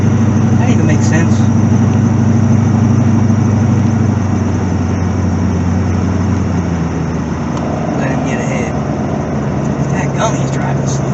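A C4 Corvette engine idles in slow traffic, a continuous low rumble close by with someone talking over it in places.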